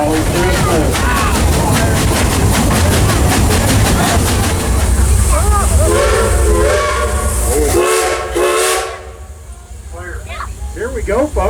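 A passenger train rolls along with a rhythmic clatter, steam hiss and whistle, while a crowd sings together loudly over it; the noise drops near the end as the singing thins out.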